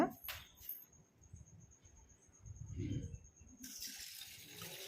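After a few quiet moments with faint sounds, about one cup of water begins pouring into a pot, a brief splashing rush near the end.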